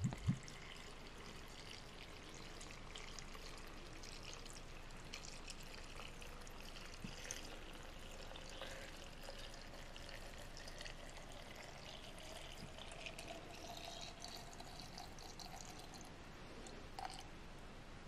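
Bombay gin poured from a bottle over raisins in a container, a faint, steady liquid trickle running on for a long stretch at low volume.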